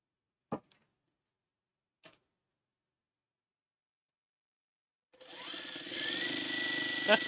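Sewing machine running steadily while stitching jelly roll quilt strips, starting after a couple of brief clicks and a pause, then a continuous whirring hum that holds close and fairly loud to the end.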